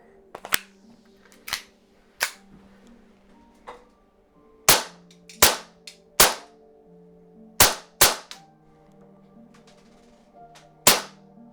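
An airsoft gun fitted with a T238 Swift tracer unit fires single shots, sharp snapping cracks spaced irregularly, about a dozen in all, with a faint hum between shots.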